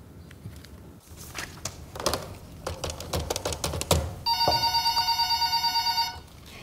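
An old-style telephone bell rings steadily in a German political comedy sketch, a bright repeating trill that follows clattering, typewriter-like taps and footsteps, with no talk over it.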